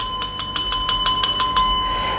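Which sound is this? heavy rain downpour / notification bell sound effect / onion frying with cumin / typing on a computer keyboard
notification bell sound effect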